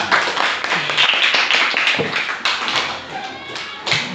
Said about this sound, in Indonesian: Oke, tepuk tangan untuk mereka bertiga.